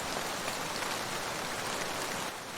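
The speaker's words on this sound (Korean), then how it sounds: "처마를 두드리는 빗소리에 서책을 보던 강태백도 밖을 내다보았죠." Rain patters steadily on the eaves of a traditional house, a dense, even hiss of drops with no talking.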